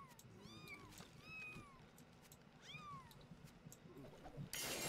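Cats meow repeatedly, a few drawn-out cries in quick groups over a low rumbling background, before a sudden loud burst of noise cuts in at the very end.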